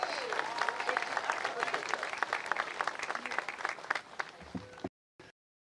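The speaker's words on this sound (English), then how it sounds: "Ladies and gentlemen, clap it up for Mr. Jeremiah Donati as he comes forward." An audience at a statue unveiling for basketball coach Dawn Staley applauds athletics director Jeremiah Donati as he walks forward; crisp, dense clapping runs for several seconds under faint voices, then cuts off abruptly.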